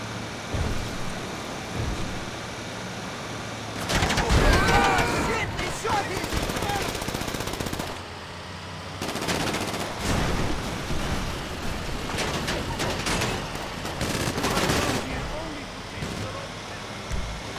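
Enemy gunfire rattles in GTA Online during a Doomsday heist, dense bursts of automatic shots mixed with vehicle and wind noise, loud at times and fading between volleys, with people talking throughout.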